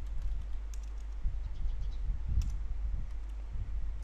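Keys tapped on a computer keyboard during a Windows search, a steady patter of soft clicks over low background hum, with no voice.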